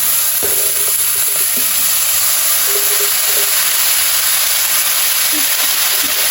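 Boiled broccoli, potato, carrot and cabbage hit a hot pan, giving a steady close sizzle and hiss that runs alone throughout with faint stirring taps.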